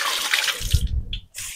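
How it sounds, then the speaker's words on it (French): Soaked cashews being drained, with water pouring and gushing steadily for over a second, then a short pause and a brief final splash; close and fairly loud, no talking. "Je vais égoutter mes cajous."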